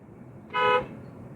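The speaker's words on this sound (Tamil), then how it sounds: "அப்போ நம்ம 1க்கு 2 முறை ஹார்ன் அடிச்சுட்டு," A car horn gives a single short toot of under half a second, clear above a low background rumble while driving.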